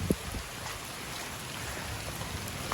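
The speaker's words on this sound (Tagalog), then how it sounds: "Grabe ang ulan." Steady, dense rain hisses continuously at moderate volume, with a few faint knocks and drips and no voices.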